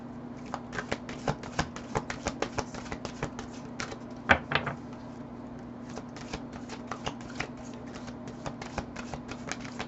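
Tarot cards being shuffled by hand, a steady run of crisp riffling flicks with a louder burst near the middle, close and clear over a low steady hum, no talking.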